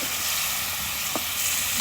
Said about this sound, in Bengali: আলুটা ভালোভাবে কষাতে হবে।